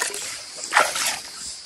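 Clear water gushing and splashing out of an electric pump's outlet, a brief hissy surge that rises and settles, heard up close without voices.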